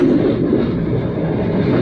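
Steady, loud rumble and rattle of a moving train carriage on the Puttalam to Colombo Fort line, continuous and unbroken, heard from inside near a loose door.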